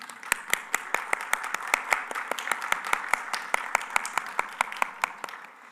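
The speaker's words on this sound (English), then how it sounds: "Yes, thank you, Timo, for that clap." Audience applause at the closing of a Kurdish Studies forum: a steady run of crisp, evenly spaced claps at moderate level that taper slightly toward the end, with no talking.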